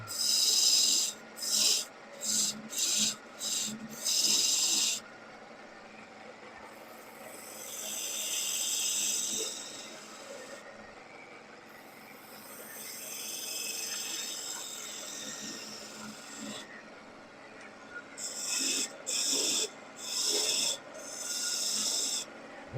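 Wood gouge cutting a spinning blank on a lathe during woodturning: rasping bursts in quick rhythmic strokes, then longer sustained scraping passes, close and moderately loud with the lathe running beneath.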